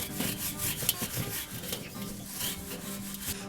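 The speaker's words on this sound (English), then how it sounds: "we're gonna take our steel wool and begin to really get into those nooks and crannies" Steel wool scrubbing a Weber kettle charcoal grill grate, a steady close-up rasping rub that repeats in short strokes with no voices.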